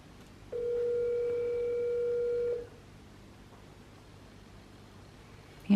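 A phone call rings out with one long, steady ringback tone of about two seconds. Quiet line hiss follows, then a brief loud click at the end.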